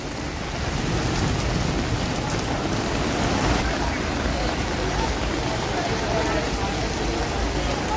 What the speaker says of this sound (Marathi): मोठ्या प्रमाणात सकाळपासून जोरात मुसळधार पाऊस पडतो